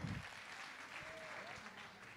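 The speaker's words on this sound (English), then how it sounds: "Y'all clap it up, Team Illuminate." Audience applause for a student pitch team at the Thurgood Marshall College Fund pitch competition, heard faint and distant as a soft, continuous patter of clapping, with some voices mixed in.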